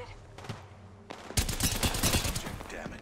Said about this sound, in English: Someone shooting from the back.